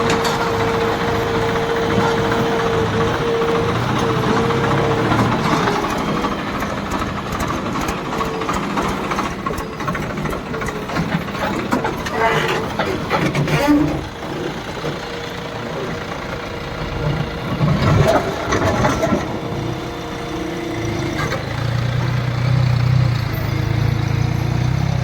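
A John Deere tractor engine runs steadily close by, a continuous rough idling rumble with slight rises and dips in intensity lasting throughout, no voices over it.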